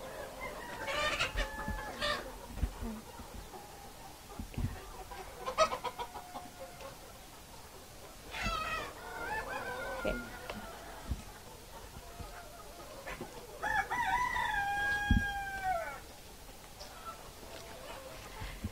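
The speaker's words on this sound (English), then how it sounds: "Thanks for showing us your black chicken farm." Black chickens on a village chicken farm cluck and call in scattered bursts, with a few longer crowing notes and murmured voices in the background.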